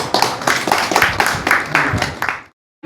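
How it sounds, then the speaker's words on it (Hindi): Audience at a classical music performance breaks into a brief burst of hearty clapping, dense and close, lasting a couple of seconds before cutting off abruptly. "जोरदार ताली।"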